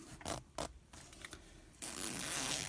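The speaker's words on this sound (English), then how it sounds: "you can just pull that side of the tape through, and it just moves it along a couple of teeth" A zipper pull drags along its teeth in short rasping strokes, then a steadier, louder zipping sound, close by and fairly quiet.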